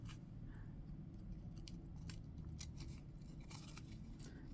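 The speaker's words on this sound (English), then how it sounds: "Let's cut up this way now. These scissors, they work good," Scissors snip through paper around old postage stamps, a steady run of short crisp cuts over a low constant background hum.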